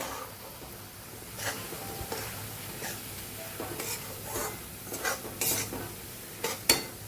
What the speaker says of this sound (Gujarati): ઘી થઈ ગયું છે તો હવે આપણે એમાં લોટ ઉમેરી દઈશું અને ધીમે ધીમે શેકશું